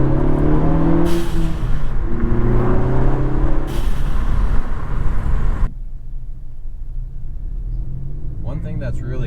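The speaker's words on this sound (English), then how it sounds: "Definitely a loud blow-off valve here." Ford Focus ST with a Turbosmart blow-off valve on a second gear pull: loud engine roar building with rising rumble, breaking off sharply near the end, followed by quieter ambience and a brief hissing vent.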